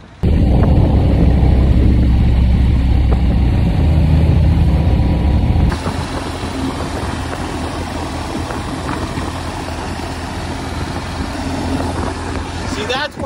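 A BMW R1200 RT motorcycle's boxer engine runs loudly and steadily with rough low rumble, the tone shifting partway through as wind noise rises.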